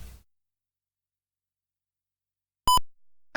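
A single electronic beep from an 8-bit computer running a BASIC program, short and tonal, sounding alone after near silence.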